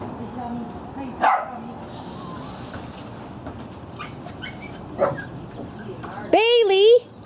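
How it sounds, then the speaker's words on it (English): Small dogs bark and whimper in short bursts, with one loud yelping, wavering cry near the end, heard under continuous nearby talking. "Puppies!"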